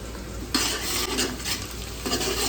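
Onions frying in hot oil for fish dum biryani give a loud, steady sizzle with stirring and clinks of a utensil against the pan, close by and with no talk.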